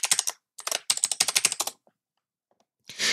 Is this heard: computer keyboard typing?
yes